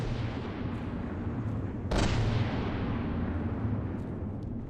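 Heavy artillery gunfire in the naval combat game From the Depths, a dense rumbling barrage with one sharp, louder blast near the two-second mark and continuous booming underneath throughout.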